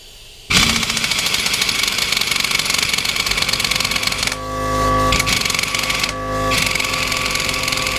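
A pneumatic impact gun, run off an air compressor, hammers in a loud, continuous rattling burst on the drive shaft nut of a Porsche Boxster 986. It starts abruptly and shifts in pitch and intensity as the nut resists.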